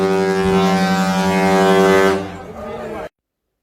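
A cruise ship's deep horn blasts loudly as the ship sails away from port, a long sustained tone that cuts off and leaves a fading echo and wind.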